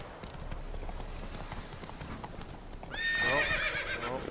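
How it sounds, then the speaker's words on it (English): Horse hooves clip-clop at a steady gallop in The Witcher video game, followed by a loud, close neigh that rises sharply near the end over the continuing hoofbeats. "This is very hard to control the horses."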